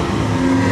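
A classic Maserati four-cylinder race car on the Mille Miglia road rally roars past in a brief, steady, nearby burst of engine note.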